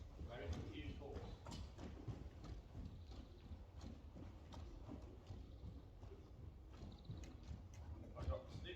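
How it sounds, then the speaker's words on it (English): A horse's hooves clip-clop steadily on the ground as it turns in place during groundwork training, with fairly close, irregular steps and voices faintly underneath. "Here, you have a very confused horse."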